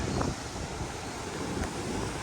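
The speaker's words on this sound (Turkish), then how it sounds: "şu an Horseshoe yani Kanada tarafındaki şelalenin döküldüğü yere geldim" Niagara's Horseshoe Falls on the Canadian side, where the river pours over the brink, gives a steady, loud, broadband roar that fills the scene without pause and carries no voices.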